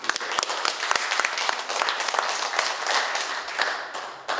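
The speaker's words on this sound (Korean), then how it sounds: "그 사람에게 한번 박수를 한번 보냅시다" An audience claps for Michelle Park, a dense, lively round of applause that stays strong throughout, with many hands clapping at once close by.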